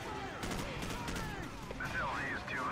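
Gunfire in a Call of Duty 4: Modern Warfare battle: rapid, faint automatic bursts crackle under a busy game soundscape, with voices talking over it.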